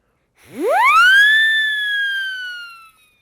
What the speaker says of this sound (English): The siren whistle